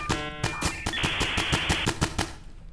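Rapid automatic gunfire bursts in the tactical police shooter Ready or Not, loud and close, a rhythmic string of sharp shots for nearly three seconds with no talk.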